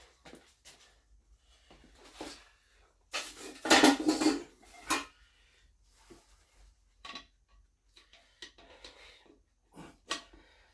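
Metal tire spoons clanking and scraping against a Jeep tire and rim during mounting, in sporadic bursts of knocks and rattles with one louder cluster of metallic clatter.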